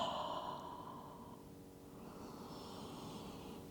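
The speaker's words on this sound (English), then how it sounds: "Taking a breath in and out." A person takes a slow breath in and out during a yoga session, a soft airy exhale fading into a quiet inhale, close and gentle, with no talking.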